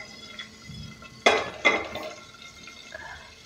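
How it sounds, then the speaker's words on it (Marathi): Cumin seeds stirred in a pan while cooking akkha masoor, heard as two distinct scraping clatters in quick succession over a quiet background hiss, with no talking. "थोडं हलवून घेऊयात त्याला."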